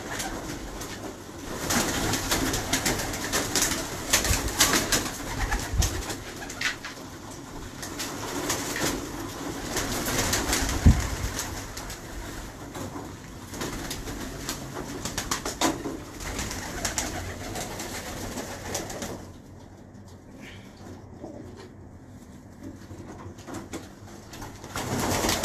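Pigeons kept by a breeder coo repeatedly in soft, low, rhythmic calls, close by over a busy background, fading near the end.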